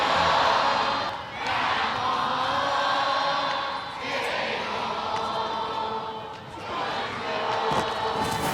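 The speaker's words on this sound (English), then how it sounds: "let's listen to the crowd" Crowd at a Savannah Bananas versus Charleston Dirty Birds baseball game cheering, a broad wash of massed voices rising and falling in waves, with individual shouts standing out against the roar.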